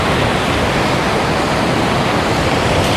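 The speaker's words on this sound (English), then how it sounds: "you can just hear how loud it is over there with the waves" Gulf ocean waves at Alabama Point beach roar in a loud, steady, continuous wash of surf, close by and unbroken, with no voices.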